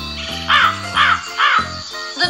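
Crow calling: three loud, harsh caws spaced about half a second apart, close and clear, with a fourth beginning at the end over a low steady background hum.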